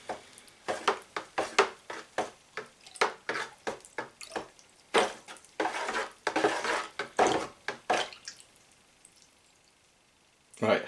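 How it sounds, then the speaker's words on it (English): A ladle scrapes and clanks through a strong chemical mixture in a pot, with repeated rhythmic stirring strokes and wet sloshing, moderately close, ending in near quiet. "Just give it a bit more of a stir."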